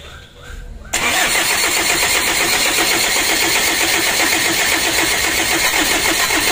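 An overhauled engine cranks briefly on the starter and catches at about one second, then settles into a loud, close, steady running rumble for the rest of the clip.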